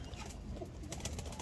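A domestic pigeon cooing softly at a loft among kept pompous pairs of flying pigeons, a faint low murmuring coo under quiet background hiss, with no talk over it.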